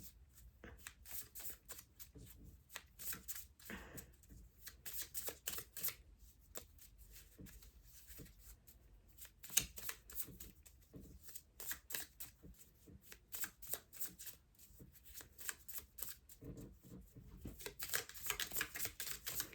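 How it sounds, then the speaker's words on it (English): Small cards shuffled by hand over and over, a long run of quick crisp riffling flutters and soft slaps with brief pauses between bursts, close and fairly quiet. "I feel like I've been shuffling for ages."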